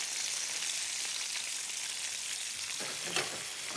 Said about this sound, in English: So I'm just sauteing this in a little olive oil, and I just want one layer so it gets really seared